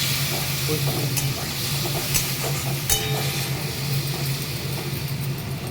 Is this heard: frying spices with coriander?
yes